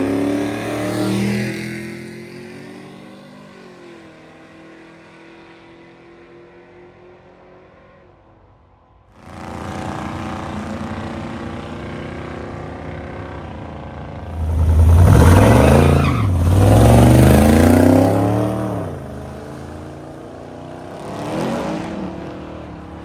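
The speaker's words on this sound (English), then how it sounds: "We're also seeing some of our other hard tire cars and a couple other classes make some passes in between rounds" Hard tire drag race street cars making passes on the strip, an engine revving and fading, then a loud roaring launch and acceleration surging past nearby before trailing off.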